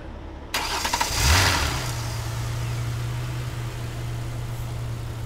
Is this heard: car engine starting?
yes